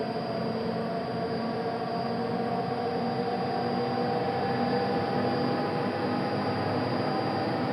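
A train in the Train Sim Classic game runs on the Birmingham to Euston line, giving a steady, loud rolling drone with a constant high whine and no voices over it.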